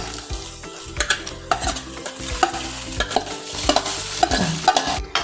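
Biryani rice is stirred and mixed in a pan, with rhythmic spatula scrapes and knocks over a soft sizzle, close and fairly loud, with no talking.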